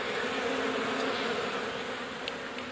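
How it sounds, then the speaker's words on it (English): Dense, continuous buzzing of many honey bees from a bird house cut-out, close and steady, with no other sounds. "Look at all those bees in there running after."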